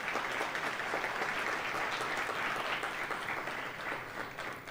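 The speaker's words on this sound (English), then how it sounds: "Ladies and gentlemen, please welcome them with a huge round of applause." Audience applause welcoming speakers at the AIMA National Leadership Conclave 2022, an even sustained wash of hall clapping heard at moderate distance, tapering slightly at the end.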